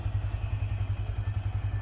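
A blue Kawasaki Ninja in Movistar livery with about 42,000 km on the odometer idles smoothly close by, its low steady engine rumble pulsing evenly and running on its own without any voices over it.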